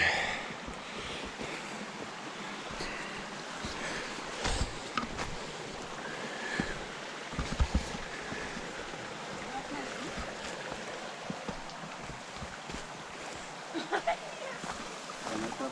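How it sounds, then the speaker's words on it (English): Steady broadband rushing of a mountain stream fills the scene, with gusty wind buffeting the microphone and occasional faint voices and footsteps nearby. "we get to the first water stream"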